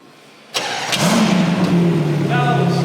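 After a moment of quiet, a Ferrari Purosangue SUV fires up with a sharp crank and catch, then holds a loud, close, throaty idle with a slight rev swell.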